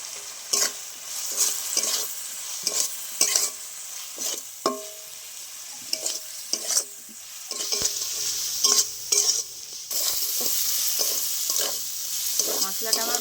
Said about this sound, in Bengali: এবার কিছু গুঁড়ো মশলা দিয়ে দেবো